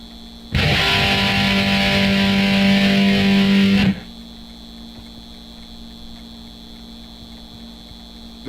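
Loud distorted guitar amplifier hum and buzz in the Back to the Future video game, a steady harsh drone with a low tone that holds for about three seconds, then cuts to a faint residual mains hum.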